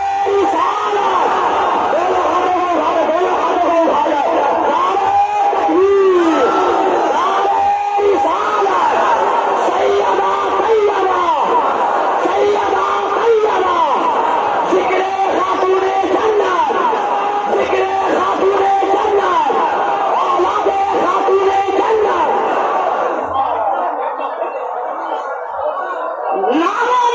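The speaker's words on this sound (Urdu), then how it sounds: "نعرے تکبیر، نعرے رسالت" A large crowd chants the religious slogans Naara-e-Takbeer and Naara-e-Risalat together, loud and sustained across the whole stretch, with voices rising and falling in waves and thinning out near the end.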